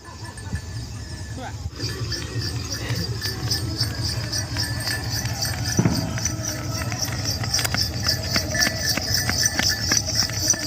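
Hooves of decorated horses and bulls clop along steadily amid a lively outdoor village bull festival procession, with DJ music and crowd voices loud around them.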